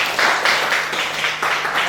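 A classroom group applauds after a student presentation, a close, moderately loud burst of clapping with uneven pulses of many hands over nearly two seconds.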